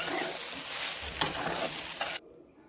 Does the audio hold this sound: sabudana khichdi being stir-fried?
yes